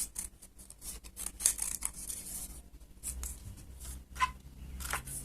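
Scissors snip through paper while shaping a cut-out mask, a series of close, crisp cutting strokes in irregular bursts with brief pauses and light paper rustling, no talking.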